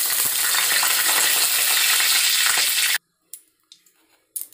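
Bay leaves dropped into hot oil in a kadai set off a loud, steady crackling sizzle for about three seconds, which cuts off abruptly, followed by a few faint, scattered clinks.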